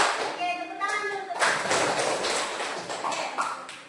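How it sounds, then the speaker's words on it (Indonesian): A class of students claps hands together in a loose burst of applause, moderately loud and continuous for a few seconds, following a teacher's spoken prompt and overlapping with voices. "Oke, tepuk tangan dulu."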